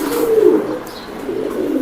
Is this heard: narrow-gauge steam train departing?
no